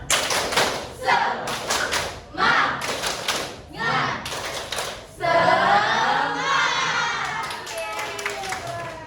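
A classroom of students performs a tepuk semangat clapping chant, with bursts of rhythmic group claps and shouted voices in short phrases, then sustained loud group chanting or cheering toward the end.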